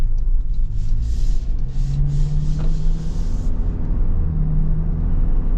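Steady low road rumble and engine drone inside the cabin of a lifted 2025 Toyota Land Cruiser while driving, a continuous hum with faint hiss above it and no talking.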